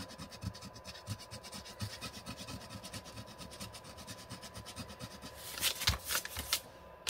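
Scissor blades lightly scraping the cover of a ring-bound handmade journal to rough up its surface, a steady run of fine repeated scratching strokes that grows busier and louder near the end, with no talking.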